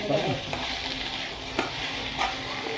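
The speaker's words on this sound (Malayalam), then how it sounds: "ഇങ്ങനെ മീൻ ഇങ്ങനെ നല്ലപോലെ ആ എണ്ണയും ഇഞ്ചിയും പച്ചമുളകും വെളുത്തുള്ളിയും നേരത്തെ കൂട്ടി ഇങ്ങനെ ഇളക്കി കൊടുക്കണം" Sardines frying in oil with ginger, green chilli and garlic, stirred in a pan: steady dense sizzle throughout with soft scraping strokes and occasional knocks of the spoon, close and continuous.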